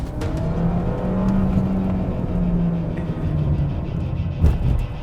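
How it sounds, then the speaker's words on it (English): A 2017 Audi A3 petrol engine revs under acceleration with a raspy note, a steady rumbling drone heard from inside the car, briefly rising before a bump near the end. "Just listen to that engine. There is a nice little raspy note to the petrol engine."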